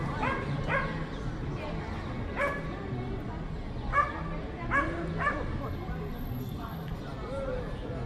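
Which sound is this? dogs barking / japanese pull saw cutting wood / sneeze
dogs barking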